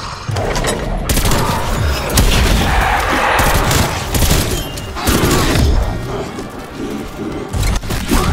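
A ray gun fires repeatedly in a zombies video game, its rapid energy blasts mixing with booms and gunfire in a dense, loud, continuous barrage that runs without a break.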